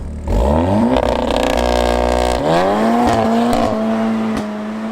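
A tuned 475bhp Audi S3 accelerates hard on a country road, its engine note climbing loudly in pitch, dipping briefly at a gear change, then pulling strongly again before easing off.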